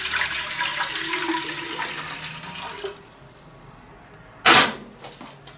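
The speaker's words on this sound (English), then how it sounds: "you pour your water in." Water pours from a one-litre container into the tank of an ARBIO ultrasonic cool mist humidifier, a continuous splashing trickle for about three seconds, then quieter, followed by a short loud gush or clunk near the end.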